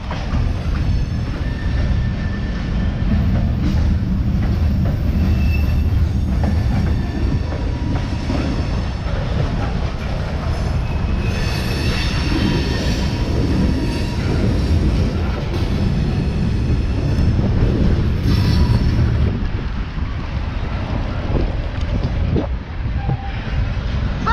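A train rumbles steadily along railway tracks for a long stretch, loud and continuous, with rolling clatter and no voices.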